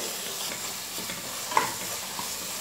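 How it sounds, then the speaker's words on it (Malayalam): Tomatoes and spice powders sautéing in a pan for vegetable biryani made in a pressure cooker, a steady close sizzle with soft stirring scrapes and one sharper clink, no talking. "ഇത് 1 മിനിറ്റ് വഴറ്റി കൊടുത്താൽ മതി."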